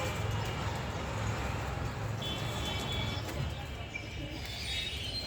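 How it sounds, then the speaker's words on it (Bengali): Pet pigeons cooing in the morning, soft repeated low coos at moderate distance over steady background noise, with no talking. "এই দেখেন সকালবেলায় আমার কবুতরগুলো ঘুম থেকে সব উঠে গেছে"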